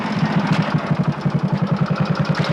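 A new motorcycle engine idles steadily up close, its fast even chugging pulse continuing without a break and with no voices over it.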